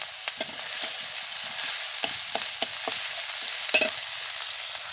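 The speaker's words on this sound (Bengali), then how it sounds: "এবার মশলাগুলো অল্প জলে গুলে দেব আদা বাটা পোস্ত বাটা দিয়ে দিলাম" Ground ginger paste and poppy seed paste being stirred into a little water, a steady close scraping and swirling with a few sharp utensil clicks against the bowl and no talking.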